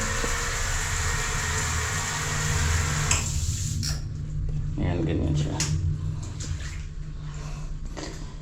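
Water sprays from a bathroom shower head in a steady hiss for about three seconds, then cuts off, followed by nearby clatter and someone speaking.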